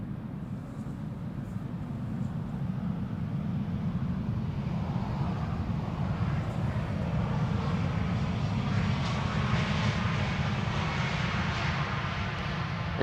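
An EasyJet Airbus A320neo jet at Schiphol Airport produces a steady, loud engine roar with a broad low rumble that holds throughout, slowly swelling and brightening toward the end with no voices.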